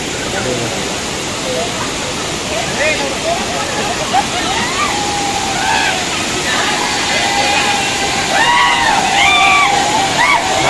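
Usgaon waterfall pours with a loud, constant rushing roar close by while people talk and call out excitedly over the flowing water.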